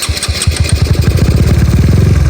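A motorcycle engine starts up and settles into a loud, steady, close-by idle with a rapid, even rumbling pulse, heard alone without talk.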